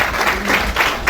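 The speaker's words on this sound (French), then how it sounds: "acclamations" A crowd applauds steadily at a religious gathering of evangelical churches in Côte d'Ivoire, with dense, sustained clapping and cheering that stays loud throughout.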